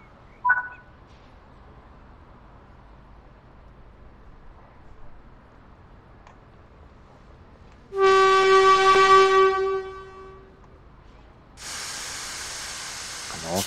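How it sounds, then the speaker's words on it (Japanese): In Train Sim World 3, a ScotRail Express train on the Edinburgh–Glasgow run lets out a loud burst of air hiss with a tonal horn-like note over it. A second steady hiss follows after a short pause, set against a quiet cab hum. "あの音のプシューとかいうのもリアルですよね。"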